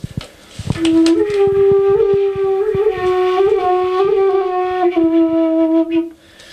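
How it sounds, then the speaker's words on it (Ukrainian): A breathy Indian bansuri bamboo flute plays a slow, ornamented melody with gentle bends and sustained notes, close and clear with no other sounds. "маю в своєму арсеналі бансурі, індійську флейту, бамбукову."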